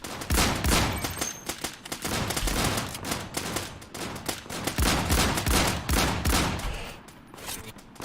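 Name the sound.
Desert Eagle pistol gunfire in video game Islands of Nyne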